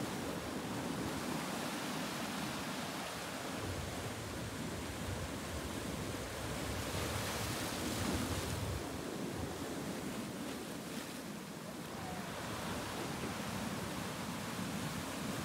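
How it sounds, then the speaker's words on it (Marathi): Sea waves break at a beach on the Konkan coast near Malvan, a constant broad roar of surf and rushing water with slight swells, steady and moderately distant, no talking. "लाटा एवढ्या जोरात येत होत्या अंगावर"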